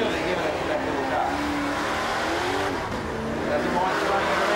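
Small car at Summernats 14 burnout eliminations, engine screaming at high revs with wavering pitch and tire noise, loud and continuous while a commentator talks over it.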